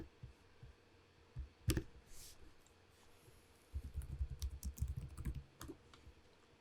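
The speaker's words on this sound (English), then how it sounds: "As we hear the clackety-clack on my keyboard." Computer keyboard typing in short irregular bursts of clacky keystrokes, close and fairly quiet, with brief pauses between runs of keys over a low room hum.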